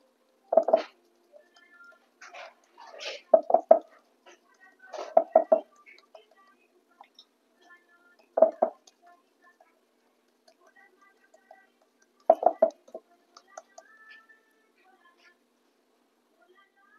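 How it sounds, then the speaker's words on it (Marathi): Thalipeeth dough, a fasting flatbread of sabudana and varai, patted flat by hand with wet hands on a wet cloth: soft, damp slapping pats in short clustered bursts, separated by pauses, close and fairly quiet. "थोडा थोडा पाण्याचा हात लावून थालीपीठ आपलं थापून घेऊया इथं"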